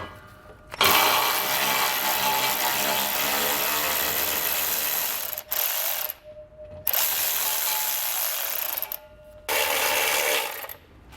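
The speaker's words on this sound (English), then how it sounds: "we'll take a 13mm socket and get these two bolts removed" A 13mm socket on a ratchet or power tool backs out heat shield bolts on a 2019 Chevrolet Silverado, giving loud continuous whirring runs broken by short pauses, close up, with no talking.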